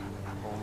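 A dog gives a short, soft whimper, close by and alone.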